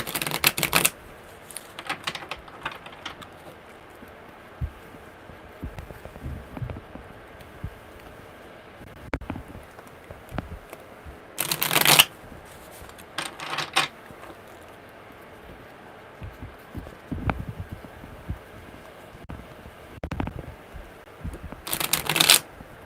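Tarot cards shuffled during a live one-card reading: three quick, crisp riffling bursts, spaced about ten seconds apart, close to the microphone, with soft handling noises and quiet stretches between them and no talk.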